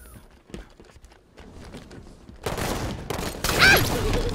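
Shotgun blasts and chaotic combat noise from a Halo 5 infection match, quiet at first, then a sudden loud burst of gunfire and commotion that keeps going, with no talking.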